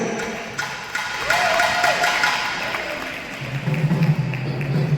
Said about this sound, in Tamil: உங்கள் கரகோஷத்துடன் அகிலா அருணா